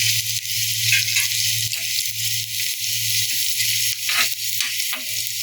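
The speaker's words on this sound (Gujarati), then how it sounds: "ઝીણા સમારેલા મરચાં છે એને આપણે એડ કરી અને થોડા આપણે તેલમાં સાતળી લઈશું" Finely chopped chillies with onion sauté in hot oil for a paneer tindoli masala, giving a steady close sizzle with a low hum beneath and a few brief stirring clinks near the end, no talking.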